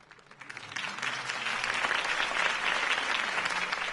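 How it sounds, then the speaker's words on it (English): Sustained applause from a large crowd greeting Harvey Dent's campaign speech, swelling from a thin start into steady, dense clapping that carries on to the end. "If only Mr. Wayne, my campaign's largest backer, could have heard that applause"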